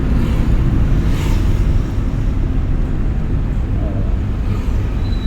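A car on a driving lesson rolls along with a steady, loud road rumble and wind noise, the engine drone holding even throughout with no clear gear-shift break.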